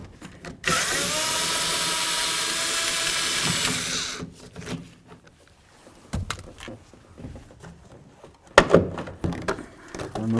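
A power tool whirs loudly for several seconds removing side mirror mounting nuts on a Toyota Tundra door, then stops, followed by metallic clicks, rattles and a sharp clunk nearby.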